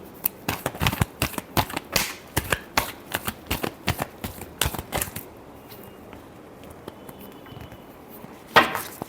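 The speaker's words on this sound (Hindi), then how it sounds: "लास्ट शफल देंगे" Tarot cards are shuffled by hand in a quick run of crisp riffling slaps for about five seconds, close and loud, then near quiet with one final sharp tap.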